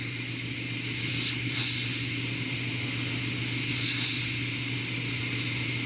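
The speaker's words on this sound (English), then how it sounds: "I just adjust it till I spray it the way I want" An airbrush sprays paint into the deep crevices of a quarter-scale custom figure sculpture, a steady airy hiss that runs throughout with soft swells of heavier spray, close and alone.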